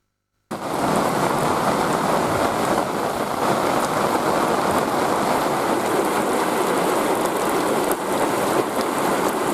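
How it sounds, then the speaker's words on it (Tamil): Heavy rain pours down in Ooty, a dense, loud, unbroken hiss of falling water that starts abruptly and holds steady throughout, with no voices. "ஊட்டி மற்றும் சுற்றுவட்டார பகுதியில் கனமழை பெய்தது."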